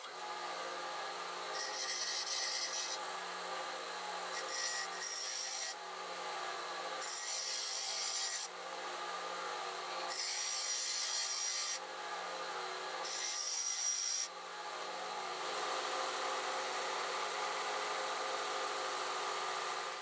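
A metal workpiece is filed flat before drilling on a lathe setup, with repeated rasping strokes in bursts of a second or two, separated by short pauses, then a steadier rubbing sound near the end.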